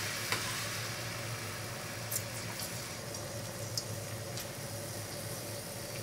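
Chopped garlic and ginger frying in three tablespoons of hot vegetable oil over medium-high heat, a steady quiet sizzle with a few soft scrapes and clicks of stirring, no voices.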